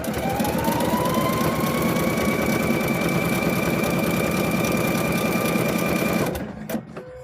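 A sewing machine stitches a car seat cover with a steady, continuous motor whir and rapid needle chatter, loud and close, running without pause before cutting off abruptly near the end.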